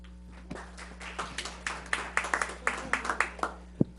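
An audience at a school board meeting claps, starting with a few scattered claps and building into a short round of irregular applause from a small nearby crowd over a steady low hum.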